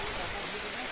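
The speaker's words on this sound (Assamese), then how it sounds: "এইফালে বৰষুণ তামাম বৰষুণ" Heavy rain pours steadily through a forest in Bhutan at night, a dense continuous hiss with no gaps across the short stretch.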